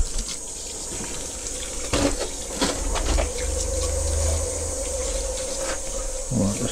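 Water poured down into a blocked drain pipe to rinse an inspection camera lens, a steady running wash with a few splashy bursts and a faint hum underneath.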